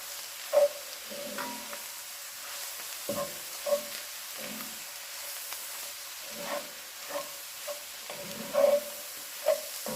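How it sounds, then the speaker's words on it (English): Cabbage frying in a pan with olive oil and butter, stirred in several short scraping bursts over a soft, steady sizzle, heard close and fairly quiet. "I'm gonna stir this"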